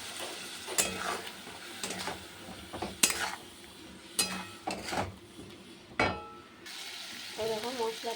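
A spice paste of Kashmiri chilli powder, salt, turmeric and a little water sautés in a pan, a low sizzle broken by sharp clinks and scrapes of a spoon stirring against the metal.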